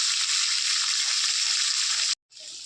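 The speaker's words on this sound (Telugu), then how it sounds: "టమాటాలు పచ్చిమిర్చి వేగినాయి" Tomatoes and green chilies frying in a pan, a loud steady sizzle close by that cuts out abruptly near the end, then resumes more softly.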